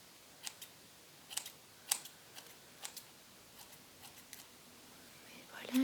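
Scissors snip the dry, damaged ends of hair in a close, quiet setting, giving about a dozen crisp, sharp cuts at an uneven pace, each one short and distinct against near silence.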